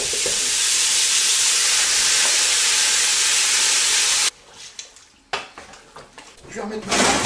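Peeled tomatoes and tomato paste going into a pot of veal marengo, a loud steady hiss and sizzle for about four seconds, then abrupt quiet broken by a few clattering knocks and short splashes.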